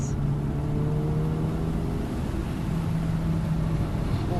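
A Honda/Acura DE5 Integra Type S on track at Virginia International Raceway, its engine droning steadily at full throttle as the pitch rises slowly over a few seconds, heard from inside the car with no talking.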